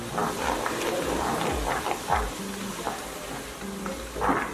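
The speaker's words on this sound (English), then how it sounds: "So I'm going to give it a good stir." A spoon stirs a pot of Ghanaian vegetable stew with pepper, habanero and onion blend, soft scraping and bubbling sizzle close by in a few uneven strokes.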